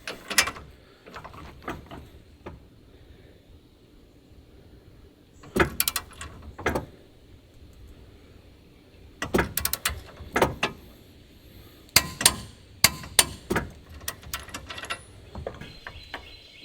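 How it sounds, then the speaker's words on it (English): Large hitch bolts on a ProPride 3P trailer hitch are tightened with a torque wrench, with bursts of quick ratcheting clicks separated by pauses, close up and with no talk. "Snug both sides up first and then torque them."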